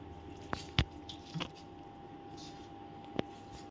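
Spice paste is mixed and squished by hand, giving soft wet squelches and a few sharper taps over a quiet background.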